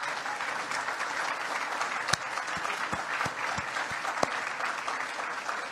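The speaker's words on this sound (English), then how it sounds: "And give yourselves a round of applause." A crowd at a tax reform rally in St. Louis applauds itself with steady, fairly distant clapping. A few sharp thuds and bangs stand out over the applause.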